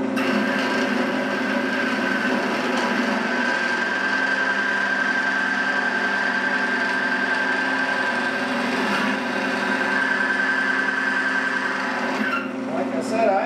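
A wood lathe spins a lidded box while a tool textures the surface, making a steady loud hum and scraping rasp that runs throughout with a brief change near the end.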